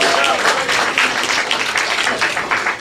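Audience clapping for comedian Royce at an open mic night at The Brew House Gallery, a dense, steady patter of hands lasting the whole moment with some murmuring underneath.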